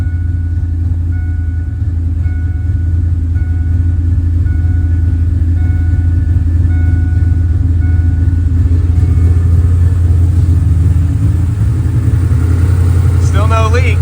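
A 1998 Ford Mustang Cobra with an irregular idle problem runs at idle close by. A steady low rumble with a faint uneven hum continues throughout, and brief talk and movement come near the end.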